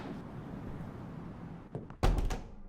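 Door exit in the horror game Welcome To The Game 2: low ambient rumble, then a brief knock near 1.7 s and a sharp door thunk at 2 s that is abruptly cut off with a slight stutter and quick decay.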